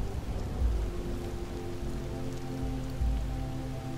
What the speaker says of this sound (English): Watch each droplet fall, splattering against the ground outside and the fabric above you.